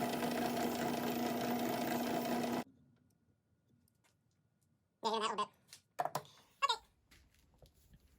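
A wood lathe spins a walnut saya, a knife cover for a gyuto, during sanding. It gives a steady, close motor hum for about two and a half seconds, then stops, and a person talks afterward.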